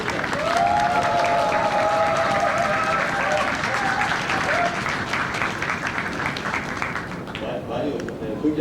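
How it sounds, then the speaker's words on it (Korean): A crowd at a political talk concert bursts into loud applause and cheering, steady dense clapping with shouts and a whistle-like tone riding over it, fading slightly near the end. "큰 박수로 강훈식 의원을 모시겠습니다."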